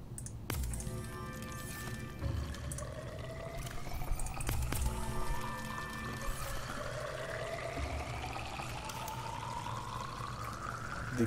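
A water-producing machine in Subnautica runs steadily, a continuous pouring, trickling flow with rising and falling tonal sweeps layered over a low droning hum, with a few sharp clicks scattered through.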